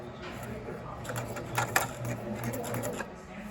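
A sewing machine stitches a line with the presser foot lowered on fabric, producing a quick, even mechanical whir and rattle that runs through the short stretch without pause.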